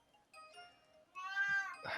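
A cat meows twice up close, a short tonal cry followed by a longer rising meow, with a faint rustle between them.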